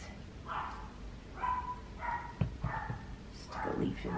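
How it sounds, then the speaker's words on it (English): A dog indoors barking and yipping in short repeated bursts, several sharp yaps spaced across the moment, moderately near and loud, with a faint voice in the background. "Surely you can hear my dog. She's losing her mind."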